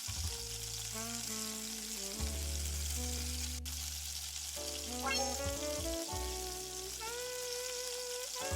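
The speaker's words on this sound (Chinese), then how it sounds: "此时加入2颗八角，再下入姜葱末，下入小米辣，煸炒出香味" Star anise, minced ginger, scallion and small chili peppers stir-fry in hot oil for a cabbage and tofu casserole, giving a steady, close sizzle that runs throughout beneath background music.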